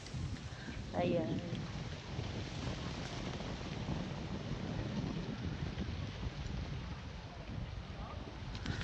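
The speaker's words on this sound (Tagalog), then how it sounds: "Mahangin dito." Strong, gusty wind on a mountain farm in Malaban roars and buffets the microphone across the whole clip, with a brief voice near the start.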